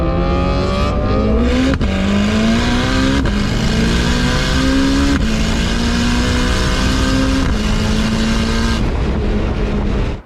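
Turbocharged car with an X-shift sequential gearbox, heard from inside the cabin: a loud, steady engine climbs in pitch through several quick gear changes, each upshift cutting in briefly before the next pull.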